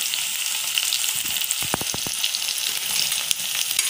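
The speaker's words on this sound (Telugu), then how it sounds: "ముందు వేసుకున్నామండి కొంచెం వేగించుకుంటాము" Dried red chillies frying in hot oil give a steady, close sizzle with a few sharp pops and crackles scattered through, with no voices.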